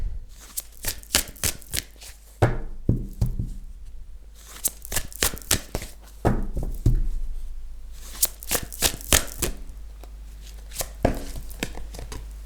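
Tarot cards shuffled by hand in a steady run of crisp riffling slaps and flutters, close and alone, with brief pauses between bursts.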